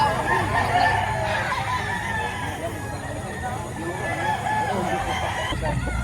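A large rooster crows loudly and close by at a busy poultry market in Lipa, Batangas, with clucking fowl and a babble of people talking around it.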